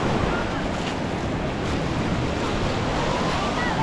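Steady roar of ocean surf breaking on a beach at a surf hotel, constant and fairly loud with wind buffeting the microphone.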